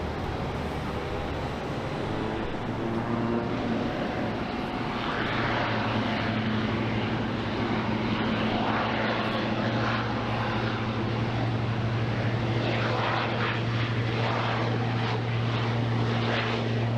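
An airplane takes off from runway 25 right at Phoenix Sky Harbor International Airport, its engine roar rising into a loud, sustained rumble and whine that fills the whole span, with no one talking nearby.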